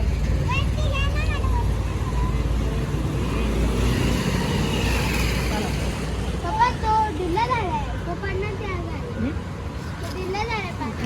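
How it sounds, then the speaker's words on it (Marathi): Cars and other vehicles pass on a road, a broad engine and tyre rumble that swells and fades, heard under people talking nearby. "इकडे घ्या ओ गाड्या येत आहेत"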